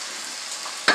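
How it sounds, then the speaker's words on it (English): Meat browning in a frying pan for spaghetti sauce gives a steady, close sizzle, broken near the end by a sharp clatter as it is stirred or turned. "Make sure and keep turning your meat till it's brown, all cooked through."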